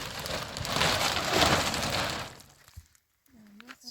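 Heavy rain pours down in a mountain blizzard of snow and rain, a loud, dense hiss that fades after a couple of seconds before a voice speaks over quieter background.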